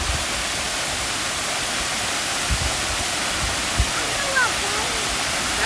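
The waterfall at Hayden Falls Nature Preserve pours as a steady, dense broadband rush, with faint voices now and then beneath the roar.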